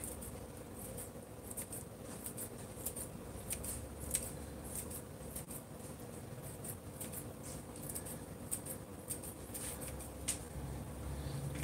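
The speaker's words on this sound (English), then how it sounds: "Then you have to grab your scissors now." Small, crisp snips of scissors cutting parsley repeat irregularly, close by and fairly quiet, over a low steady background hum.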